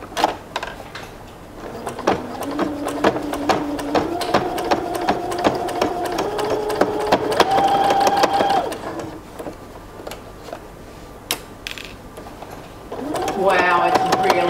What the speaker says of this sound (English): So the pant leg is down here, and I'm going to stitch down this side.